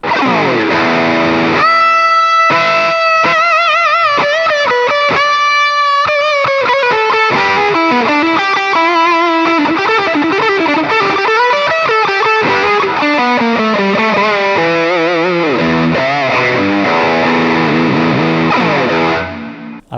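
A Kazuki Rough Stone electric guitar played through heavy distortion, loud sustained chords and melodic lead lines ringing continuously and close, alone without any talk, fading at the very end.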